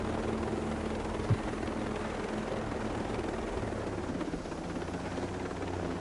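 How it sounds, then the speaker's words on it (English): Helicopter in the video game Ghost Recon: a steady, loud rotor drone with low throbbing hum runs continuously throughout, with no talk over it. "There's my other helicopter."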